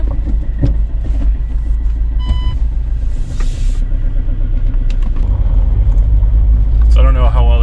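A manual-transmission car engine runs smoothly while driving, a steady low rumble heard from inside the cabin with a few faint clicks and a short beep, and a voice talks briefly at the end.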